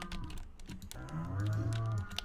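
Cows on a Stardew Valley farm give a low, drawn-out moo, up close and clear over game background ticking and clicks, with no talking.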